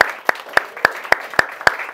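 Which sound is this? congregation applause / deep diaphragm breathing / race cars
congregation applause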